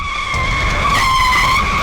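A car brakes hard and skids in an action movie scene, a loud continuous tire squeal with tonal screech holding steady for nearly two seconds.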